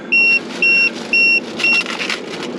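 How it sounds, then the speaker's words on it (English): A car's electronic warning chime beeps three times in a steady rhythm, then a fourth shorter beep, over a low idling hum. "It's beeping."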